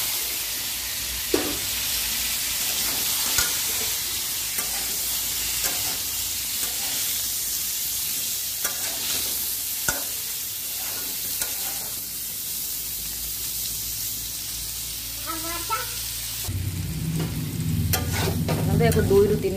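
Food frying in a kadhai for an Odia jackfruit curry, likely potato pieces being browned, with a continuous hissing sizzle and occasional stirring scrapes and clinks, close by, growing louder and fuller toward the end.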